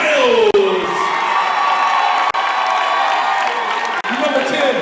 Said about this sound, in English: it's time to cheer on your substitute players